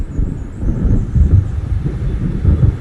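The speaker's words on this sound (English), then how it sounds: "It seems there's a storm coming." Low, heavy rumble of thunder rolling in from an approaching storm over dark lake waters in Alan Wake, a loud continuous growl swelling in waves, with no voices.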